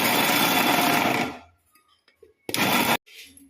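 A kitchen mixer grinder whirs loudly at high speed, then is switched off and winds down to near silence, followed by a short half-second burst as it is switched on and off again.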